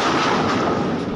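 A loud explosion strikes the bulk carrier MV Transworld Navigator at sea in the Red Sea, a dense roaring blast that fills the whole short span without easing, with no voices over it.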